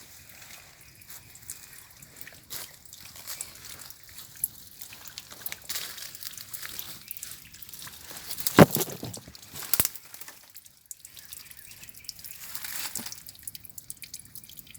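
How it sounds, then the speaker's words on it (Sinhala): Water trickling and dripping inside a rock formation, a scattered run of faint, irregular drips and small splashes with brief crinkly bursts, no voices. "පොඩ්ඩක් වතුර පාරක් වෙන්න සද්දයක් ඇහෙනවා."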